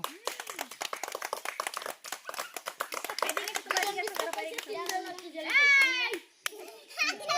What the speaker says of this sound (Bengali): এখান থেকে জোরে একটা হাততালি দাও